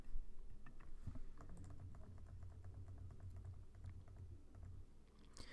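Fingers type on a computer keyboard, a faint, close run of quick irregular key clicks and taps over quiet room noise.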